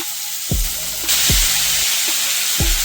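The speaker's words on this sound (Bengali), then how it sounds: "তো বন্ধুরা আমার তেল গরম হয়ে গেছে, এবার আমি একটা একটা করে চিকেন দিয়ে দেবো" Chicken pieces dropped one at a time into hot oil in a home kitchen, each landing with a thud and a burst of loud hissing sizzle that builds into a steady, close frying crackle.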